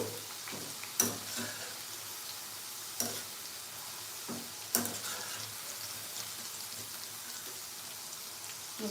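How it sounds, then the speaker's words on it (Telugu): Sliced okra frying in hot oil in a pan, a soft, continuous sizzle and crackle broken by a few sharp clatters of stirring. "కొంచెం ఒక రెండు నిమిషాలు ఉంటే ఫ్రై అయిపోతాయి"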